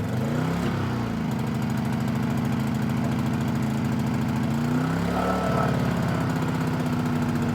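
A new portable generator, pull-started with eco mode off, runs with a steady close mechanical drone, its engine tone shifting slightly early on and again midway as it settles into continuous running.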